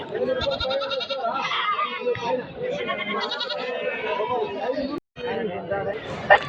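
Young goats bleat repeatedly and loudly at a busy village livestock market in Kadiri, selling goats and sheep, with a steady babble of people talking close by.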